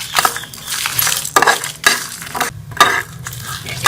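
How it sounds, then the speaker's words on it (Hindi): Whole spices dry-roasting in a pan over low heat for a Mughlai chicken handi gravy, with repeated scraping and stirring strokes and light clinks close by, in soft irregular bursts with no talk. "बाकी सारे मसाले इसमें डाल देंगे और इसको जो है वो 1 मिनट के लिए बिल्कुल स्लो आंच पे हम रोस्ट कर लेंगे"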